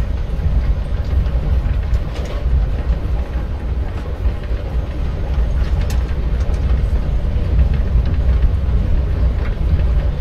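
A steady, rumbling train ride plays as ambient sound in Life is Strange: Before the Storm, a continuous low rolling drone with faint clatter throughout, no talk over it.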